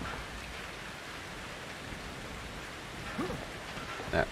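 Continuous rainfall in the survival horror game Outlast 2, a steady hissing wash with a couple of brief louder knocks or creaks near the end, no talking.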